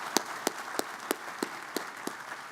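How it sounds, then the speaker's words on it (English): A small crowd at a university stadium groundbreaking claps sparsely. Evenly spaced claps of moderate loudness repeat about three times per second over a faint outdoor hush, and no voices are heard. "Give him a round of applause."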